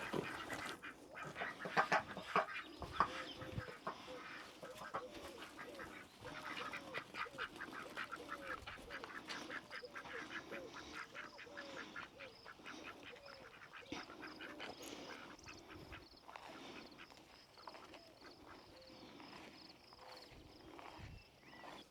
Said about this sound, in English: I get to walk the ducks down to the lower level of our property so that they can go forage